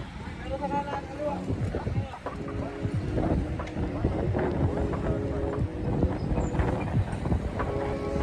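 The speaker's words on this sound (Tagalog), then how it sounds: "Nakandito yung hangin." Steady wind buffeting a microphone during an uphill bicycle ride at Caliraya, Laguna, a low rumbling roar throughout with muffled voices underneath.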